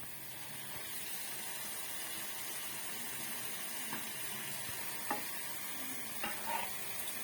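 Banana stem stirred in a hot pan with turmeric, a steady soft sizzle and hiss with a few faint clinks of the spoon against the pan toward the end.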